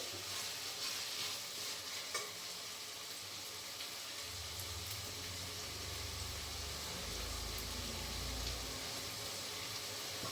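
Onions frying in oil until golden for a chicken fry, a soft, steady hiss of sizzling oil with a faint low rumble joining partway through, quiet and continuous with no talking.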